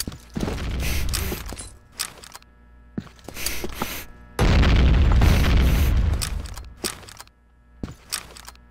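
A bomb explodes in the video game Combat Arms, with repeated booming blasts and mechanical clatter in bursts, ending in a sustained loud roar.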